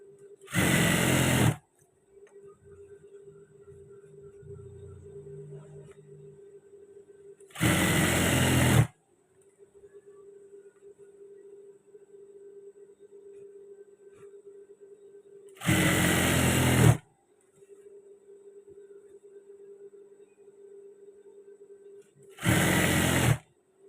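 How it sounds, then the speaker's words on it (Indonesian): Sewing machine stitching trousers, locking the seam at a fold line: four loud bursts of machine running, each about a second long and spaced evenly, with quiet pauses in between and no talking. "Nah ini kita jahit, kita kunci"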